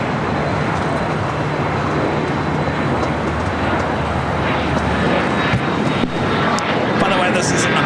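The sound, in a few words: Airbus A321 American Airlines flight landing from Boston at LAX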